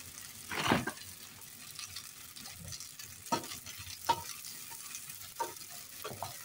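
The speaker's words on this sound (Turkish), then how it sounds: "Evet, şimdi bunu güzelce kavurdum." Food sautés in a pan with a low, continuous sizzle, broken by several louder scraping stirs of a utensil against the pan. The sound is close and moderately quiet, with no one speaking.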